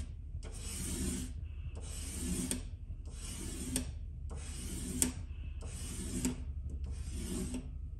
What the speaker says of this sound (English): go a little bit more into the new material, the newer part of the sandpaper